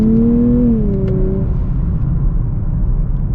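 A 2024 Nissan Z Performance engine revs while driving, a loud cabin-side drone that climbs and then settles into a deep, steady rumble.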